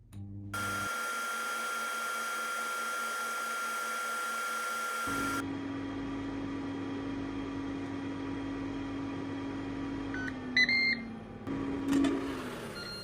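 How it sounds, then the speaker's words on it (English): An air fryer cooking potatoes runs with a steady whirring fan hum and a constant hiss, then shifts to a slightly different drone partway through, with a few faint electronic beeps near the end. "Air fry at the same temperature for another 10 minutes."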